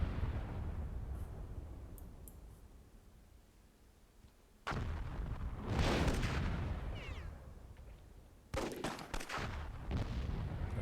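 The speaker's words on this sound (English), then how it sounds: "Another bombardment from Gerald." Cannon bombardment in the Myth II Soulblighter WWII mod: heavy booming blasts burst in, then rumble and crackle loudly, with a second volley near the end over a low battlefield din.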